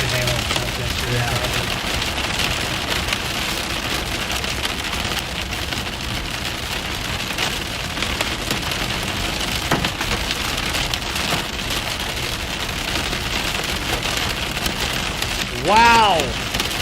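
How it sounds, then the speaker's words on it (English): Hail and heavy rain pound steadily on surfaces during a severe Kansas storm, a dense continuous patter throughout, with a faint brief tonal sound near the end. "Dang, that hail. That hail is serious. Sounds pretty big."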